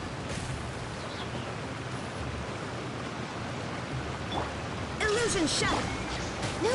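Loud waterfall in the video game Genshin Impact, a constant broad roaring wash of falling water filling the whole stretch, with a voice talking over it toward the end.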